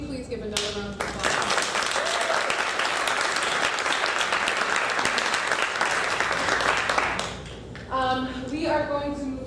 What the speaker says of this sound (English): can we please give another round of applause?